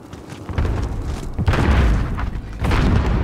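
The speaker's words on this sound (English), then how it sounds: "Throwing frag grenade." A frag grenade going off in Call of Duty Modern Warfare, a loud, deep rumbling boom layered with other blasts and gunfire in a continuous, dense roar of combat noise.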